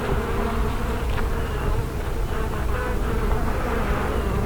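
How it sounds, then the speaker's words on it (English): Dense, close buzzing of many honeybees in an opened hive during a varroa mite check, a continuous droning swarm with no talking. "Group of bees right there."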